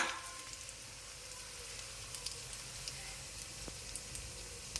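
Mustard seeds and two or three broken dried red chillies sizzle in hot oil while bitter gourd theeyal is being cooked, a faint, steady frying hiss broken by scattered small pops and crackles.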